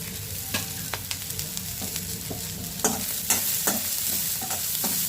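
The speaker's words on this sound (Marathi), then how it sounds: "त्यानंतर मी हिरवी मिरची घालून घेणार आहे" Onion and green chili fry in oil with a dense, close sizzle. A spoon stirs them in quick scrapes and knocks against the pan, and no voice is heard.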